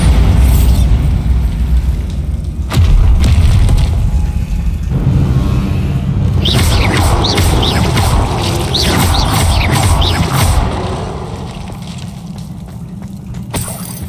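A spell explosion in the video game Hogwarts Legacy, a loud, dense boom that roars continuously for several seconds amid crackling debris, then fades to a lower rumble near the end.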